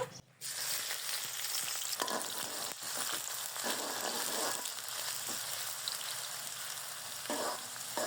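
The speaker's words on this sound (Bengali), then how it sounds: "তেল গরম করে নিয়েছি, এখন পেঁয়াজের বেরেস্তা ভেজে নিব।" Sliced onions fry in hot oil for birista, a Bengali fried-onion garnish for chicken korma, giving a steady close sizzle with occasional stirring scrapes and no talking.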